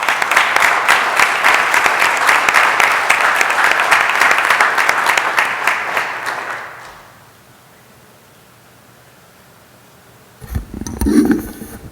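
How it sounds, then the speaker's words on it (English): An audience at a city council meeting applauds loudly and steadily for several seconds, then the clapping fades into a quiet room before brief shuffling noises. "So let's give Brenda a big round of applause."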